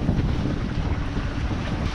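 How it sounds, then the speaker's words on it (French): A steady 15-knot wind on a sailboat at sea during a long crossing produces a constant rumbling gust noise on the microphone, mixed with the wash of water along the hull. "On est dans un bon vent de 15 nœuds établis."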